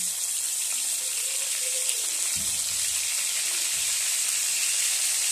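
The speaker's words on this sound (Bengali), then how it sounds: "টমাটোটা আগে তুলে জিরে ফোড়ন দিয়ে ভেজে নিলাম" Cumin seeds frying in hot oil give a steady, close sizzling hiss that continues without break, with faint clinks of stirring underneath.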